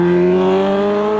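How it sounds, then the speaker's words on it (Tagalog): A Kawasaki H2 motorcycle revs loudly and close, its engine holding a strong, sustained tone that climbs slightly in pitch as it passes, with no voices. "That's Kawasaki H2. Napakaangas na motor mga guys."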